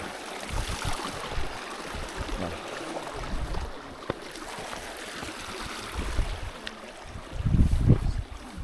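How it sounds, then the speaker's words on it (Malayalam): A forest stream flows on a Meesapulimala mountain trek, a soft, steady wash of running water with gentle surges and a brief knock near the end, heard alone and fairly faint. "അരുവി."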